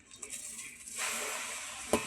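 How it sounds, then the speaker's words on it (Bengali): A pot of greens set down on a stovetop to boil: a few light clinks, then a steady hiss that starts partway through, and one sharp metallic clank near the end. No one talks. "শাকটা সিদ্ধ করতে বসিয়ে দিব।"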